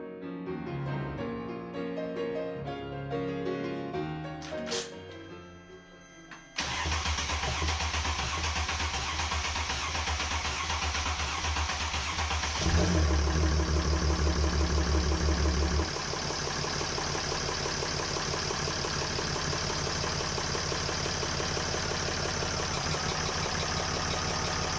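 A diesel truck engine under repair cranks, catches, and settles into a loud, steady, rumbling idle that shifts slightly in tone partway through, preceded by quieter mechanical clatter.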